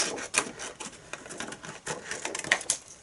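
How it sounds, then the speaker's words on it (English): Scissors snipping through a sheet of clear plastic window acetate for a Christmas shaker card, giving a few crisp crunchy cuts and rubbing rustles close up, with no talking. "we're just going to get our scissors and we're just going to cut off"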